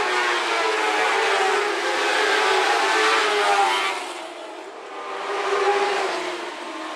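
Dwarf race cars roar around the Phillips County Raceway speedway, a steady engine drone that holds loud for several seconds, dips briefly, then swells again as the pack passes.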